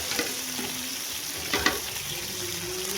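Pakol fish is frying in a pan and being stirred, with a constant close sizzle broken by a couple of scraping stir strokes. No one speaks.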